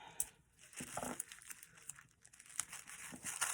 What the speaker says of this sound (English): Put a little piece of washi tape on it.